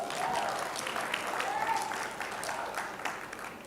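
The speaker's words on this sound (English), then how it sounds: "Round of applause for that." An audience at a conference's opening plenary session applauds in a sustained, even burst of clapping, with a voice faintly audible over it.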